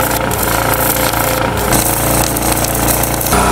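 Arc welding lays a bead along a joint on a metal base frame for a rustic wood-topped washbasin stand, a dense steady crackle and buzz running loud and close for about three seconds before cutting off.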